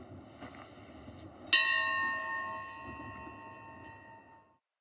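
A single bell is struck once, loud and close, with a bright metallic clang that rings on and slowly fades over a few seconds against a quiet background.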